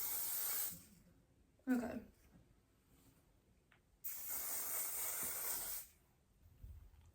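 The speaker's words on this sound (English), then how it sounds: "I am just gonna put some volume hairspray in." Garnier Fructis volume hairspray sprayed in two bursts, a short hiss then a longer steady spray of about two seconds, close to the microphone, with a brief spoken word between them.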